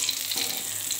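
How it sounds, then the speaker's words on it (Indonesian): Steady, soft crackling sizzle of tempeh frying in a little hot oil, close and continuous for a brief moment with no talking. "Sekarang kita lagi menggoreng tempe."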